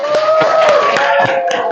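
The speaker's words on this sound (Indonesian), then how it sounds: "Oke, sudah? Aplaus." A classroom audience at a teacher guidance-and-counselling performance session gives brief, fairly loud applause, a steady patter of clapping hands lasting under two seconds.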